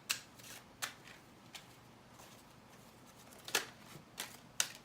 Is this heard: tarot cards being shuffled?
yes